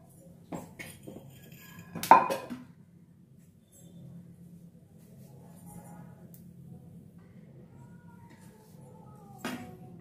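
Roasted peanuts clatter into a steel mixer jar in a home kitchen, with one sharp rattling burst and a later brief clink against a quiet background.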